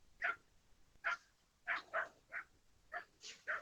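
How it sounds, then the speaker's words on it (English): A dog barks in short, fairly quiet yips and woofs, about eight of them at uneven intervals, some in quick pairs, heard alone with no talking. "dog barking."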